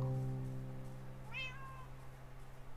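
An ocelot gives a single faint, rising meow midway through, heard against a low background hum and alone without talking.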